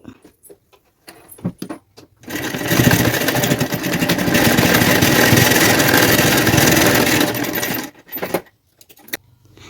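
A sewing machine stitching a plain blouse runs in one steady, loud continuous burst of several seconds, preceded and followed by short clicks and handling noises.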